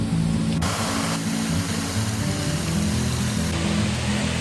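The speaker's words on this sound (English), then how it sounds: "Got a nice spray of water." Steady, loud rushing roar of a waterfall and its spray in the Grand Canyon, broadband and continuous, close by with no breaks.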